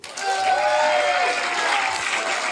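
Applause from a live audience, a dense steady wash of clapping lasting a couple of seconds, loud and close, with faint crowd noise underneath.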